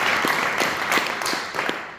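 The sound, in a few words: audience applause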